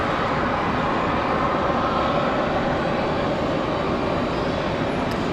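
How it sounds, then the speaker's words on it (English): An airliner, Public Airways flight 4755 bound for Philadelphia, departing Raleigh-Durham International Airport, makes a steady, loud, broadband jet roar that holds constant throughout, with no talk over it. "Public Airways 4755 off to Philadelphia."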